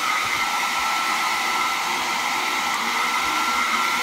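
A hair dryer blows steadily on a kitten after its bath. It gives a loud, even whooshing hum from close by that doesn't stop, with no speech.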